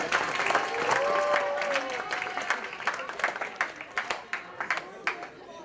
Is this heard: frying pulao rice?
no